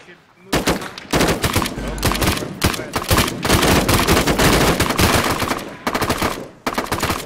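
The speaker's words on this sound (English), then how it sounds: "Open fire, open fire." Rapid automatic gunfire from a military shooter video game blasts loud and close in sustained bursts with brief gaps, dense and continuous for several seconds, with faint voices underneath.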